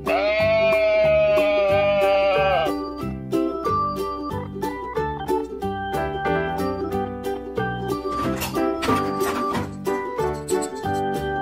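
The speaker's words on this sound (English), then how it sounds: "Sheep." Wavering sheep bleats ring out over a backdrop of tinkling, rhythmic music, the first long and loud, shorter calls following.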